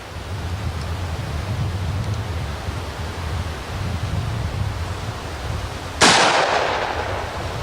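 A single sharp 30-30 rifle shot firing a 150 grain bullet cracks out near the end, loud and sudden over steady windy outdoor noise.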